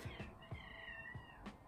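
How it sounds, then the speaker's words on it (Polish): Cats yowl and meow indoors in drawn-out, wavering cries, one long call stretching across the middle, with soft thuds underneath, fairly quiet overall. "Koty się drą."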